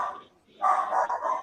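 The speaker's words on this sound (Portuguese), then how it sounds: "Tem um cachorro aí, Gabi, gritando aí." A dog barks in short, close, repeated yaps during an online lesson, a quick burst followed by a louder run of barks.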